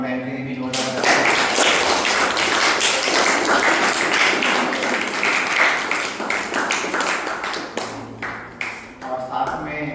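Audience applause for a teacher at an Uttarakhand Divas celebration: dense, sustained clapping from a crowd lasting nearly the whole stretch, tapering off near the end.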